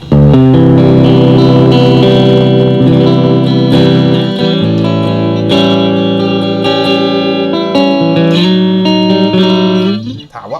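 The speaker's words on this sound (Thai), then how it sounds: "อันนี้คือถ้าบอกว่าไม่มี ตัวดีเลย์และรีเวิร์บมันก็จะเป็นเสียงแบบนี้" An electric guitar plays through an amp head with no delay or reverb, ringing out loud sustained chords and notes for about ten seconds before cutting off abruptly.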